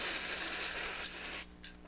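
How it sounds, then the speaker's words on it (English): An aerosol can of spray adhesive sprays in one steady, loud hiss for over a second, then cuts off, followed by a faint click. "I'm going to spray it."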